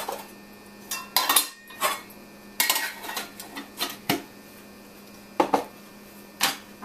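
A chicken marinade with cayenne pepper being mixed in a bowl for biriyani, heard as irregular clinks and scrapes of a utensil against the bowl in short bursts over a quiet hum, without speech.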